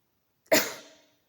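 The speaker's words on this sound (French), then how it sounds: "Pardon, j'ai envie de tousser." A single short, sharp cough from a nearby adult, abrupt onset and quick decay, heard alone against silence.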